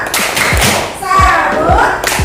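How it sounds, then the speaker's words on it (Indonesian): Classroom welcome clapping from schoolchildren, a few quick thudding claps and taps spread through a short burst, with children's voices briefly heard between them. "Tepuk sambut."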